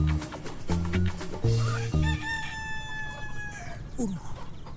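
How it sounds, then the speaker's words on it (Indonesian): A chicken clucks in several quick, loud, close bursts, then gives one longer drawn-out squawk, with a faint voice near the end. "Kayak ada ayam lagi."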